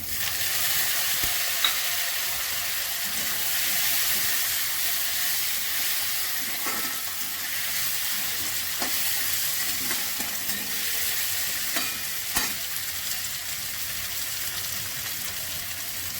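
Tomato and ground spices fry in a pan for a country duck egg curry, a steady close sizzle with faint crackles and occasional stirring clicks, no voices.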